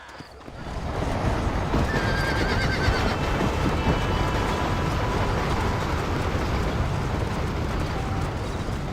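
Horses in the video game Red Dead Redemption neigh and whinny amid continuous clopping hooves and a rumbling, noisy background, loud and close throughout.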